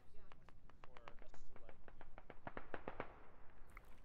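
Rapid bursts of gunfire in the military shooter game Squad ring out in an uneven string of sharp cracks, some nearer and louder, with a person talking over parts of it.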